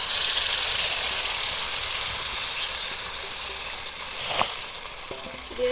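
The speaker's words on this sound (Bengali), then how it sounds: "এবার আমি এর মধ্যে দিয়ে দেবো ম্যাগিনেট করে রাখা চিকেনটা" Marinated chicken tipped into a pan of hot oil and well-fried spiced masala for chicken curry, giving a steady loud hiss and sizzle that fades slightly, with a brief louder burst and a few clinks near the end.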